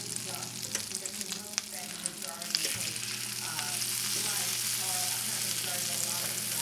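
A rack of veal sears in a hot pan over a moderately high flame, giving a steady close sizzle and frying hiss throughout with a few soft clatters.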